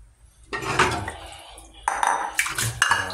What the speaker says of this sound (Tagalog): hugas tayo ng pinggan